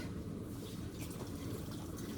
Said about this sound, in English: just topping up that stock with some water